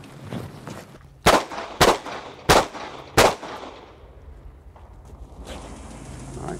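Four loud, sharp pistol shots fired at a target during a defensive shooting drill, evenly spaced about two-thirds of a second apart, followed by quiet outdoor range ambience.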